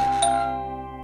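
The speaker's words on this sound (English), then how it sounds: "Did someone hear the doorbell too?" A doorbell rings with one sustained chime tone that rings on and slowly fades, close and fairly loud with no voices.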